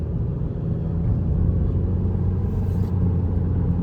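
A Volkswagen Passat 1.8 TSI cruises on the interstate at about 60 mph, its steady low engine and road rumble droning continuously from inside the cabin.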